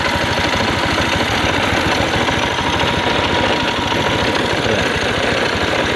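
A Honda Scoopy FI scooter with a starting fault runs loud and close, a dense, even engine chatter that holds steady throughout.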